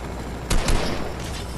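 Gunfire in the Fortnite video game: two sharp, loud bursts close together, then a steady background of game noise with no talking.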